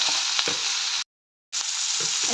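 Chicken with green chillies and black pepper sautéing in a pan, a bright steady sizzle with light stirring knocks, interrupted by a short silent gap.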